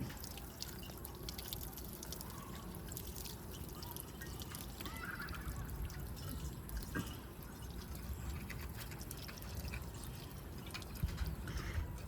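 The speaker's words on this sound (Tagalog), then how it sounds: "Lagyan natin ng tubig." Water is poured into a container, making a faint, continuous trickling and splashing that runs steadily throughout under a noisy background.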